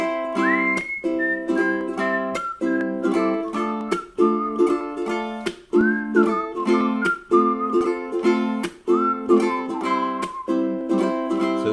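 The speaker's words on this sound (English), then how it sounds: "Oh, this has got a lot of whistling." A song carried by a clear whistled melody, steady and prominent over a strummed accompaniment, with gliding phrases repeating throughout.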